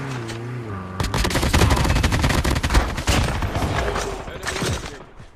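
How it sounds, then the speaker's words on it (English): Rapid gunfire in the mobile shooter Call of Duty Mobile, with dense bursts of automatic shots and explosions running loud and continuous for most of the span after a brief lead-in. "We're getting sniped at"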